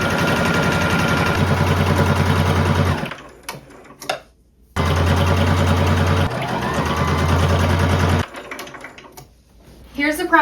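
A sewing machine stitches the sides of a pair of bloomer shorts in loud, rapid mechanical bursts, stopping and restarting, with brief pauses and handling noise between runs.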